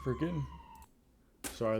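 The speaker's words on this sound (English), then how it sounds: "an ambulance driving by" An ambulance siren passing outside holds a steady wailing tone, heard briefly and fairly faintly as a man's speech stops and starts around it.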